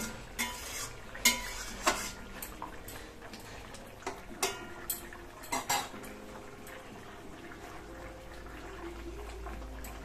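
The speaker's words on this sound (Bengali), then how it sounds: "মাছগুলো এখানে দিয়ে দিচ্ছি আস্তে আস্তে" Rohu fish pieces dropped into a simmering pot for a kohlrabi curry, giving scattered clinks and soft thuds against metal over a low bubbling background, with a few sharper knocks near the start and middle.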